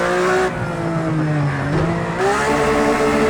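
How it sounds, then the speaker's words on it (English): A Porsche GT3 RS drifts through a corner in a racing video game, its engine droning steadily while tires squeal under load, loud and continuous throughout. "this is always a nice corner for drifting"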